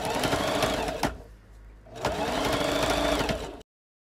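A sewing machine runs in steady rapid stitching bursts while sewing along the top edge of pleated trim for a Victorian bustle skirt, with a short slower pause in the middle before the stitching picks up again and stops abruptly.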